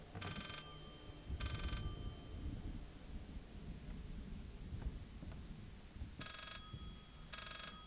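Telephone ringing from behind a bookcase in the video game Layers of Fear, four short bursts of rapid bell trills in two pairs, quiet against a murky rumbling background.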